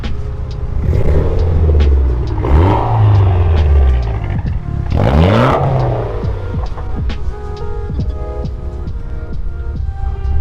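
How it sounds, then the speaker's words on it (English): A Subaru STI engine revs hard in several loud bursts, each rising and falling, then settles into a rough, throbbing idle. "Rev her up!"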